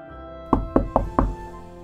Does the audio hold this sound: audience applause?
no